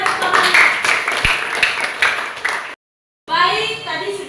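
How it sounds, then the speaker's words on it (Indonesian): A school class claps after a group presentation in a classroom, brisk scattered clapping under a speaking voice, then a brief silent break before talk resumes. "Mana tepuk tangannya?"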